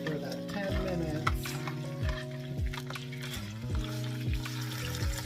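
Lobster shells and meat are stirred in a hot pan, with a spoon scraping in repeated rhythmic strokes over a constant loud sizzle and clicks of shell against the pan.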